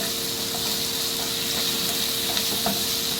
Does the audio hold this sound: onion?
yes